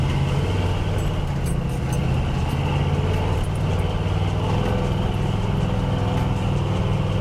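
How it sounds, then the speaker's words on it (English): A 1984 Chevy K-10 truck with four-wheel drive drives into a soft sugar-sand pit off-road, its engine droning steadily and loudly throughout from inside the cab, with no talk. "Right now I'm going to enter into the sand pit here."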